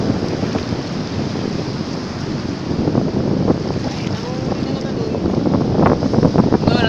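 Rough sea waves surge and break along a beach where people gather tiny shrimp by boat, a constant loud churning wash with heavy wind buffeting the microphone and voices mixed in.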